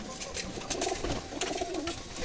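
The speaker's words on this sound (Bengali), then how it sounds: "দেখুন পায়রাগুলো" Pigeons coo in a low, steady murmur of overlapping calls, fairly close and moderately loud, running unbroken for about two seconds with no talk.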